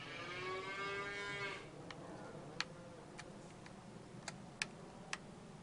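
Cattle in the farming game Farming Simulator 25 give one drawn-out moo with rising and falling harmonics, followed by a series of sharp clicking ticks and faint background sounds.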